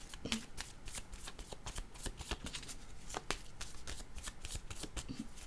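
Tarot cards shuffled continuously in a French reading, a dense rapid patter of papery flicks and riffles, close and steady throughout without talking.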